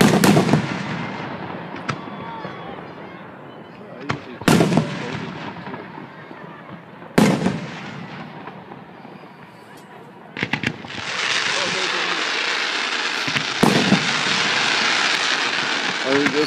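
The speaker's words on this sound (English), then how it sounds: "maybe 10 minutes of fireworks" Fireworks burst with sharp, loud booms at irregular intervals, followed by crackling and a sustained rumbling roar; voices are faintly present between explosions.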